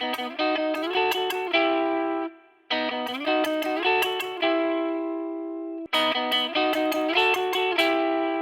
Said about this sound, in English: And then he does these triplet build-up things.